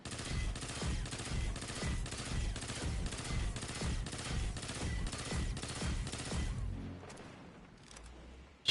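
Rapid automatic gunfire from a gun in the video game Destiny, fired without aiming down sights: a sustained burst of evenly spaced loud shots lasting about seven seconds, then a quieter tail as the firing stops.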